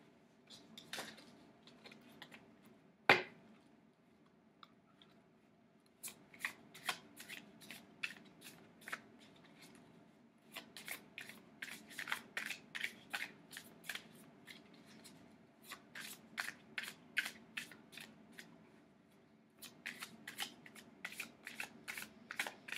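Tarot cards are shuffled in quiet, repeated bursts of rapid riffling flutter, close and soft, with one sharp snap early on and brief pauses between rounds.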